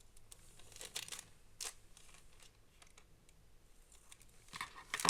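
Scissors snip the little corners of a glassine paper bag with short, crisp paper cuts and crinkles, close by and fairly quiet, with a louder snip at the end.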